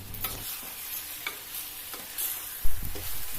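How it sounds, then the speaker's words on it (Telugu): Chicken stirred in a sizzling pan for a country-style chicken curry with broad beans: a steady fry hiss under a few scraping spoon strokes and one louder clatter near the end, with no talking. "చికెన్ వేసుకుని బాగా కలుపుకున్న తరువాత"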